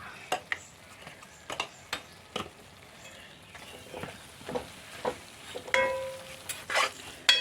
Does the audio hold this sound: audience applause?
no